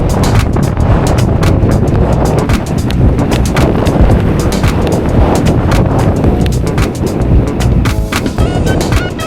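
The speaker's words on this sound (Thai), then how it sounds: "ลมแรงจริงจ้าแม่จ๋า" Strong wind buffets the microphone while cycling on a rainy first day of a Hamburg-to-Amsterdam bikepacking trip, a loud, continuous roaring rumble with gusty bursts filling the whole stretch.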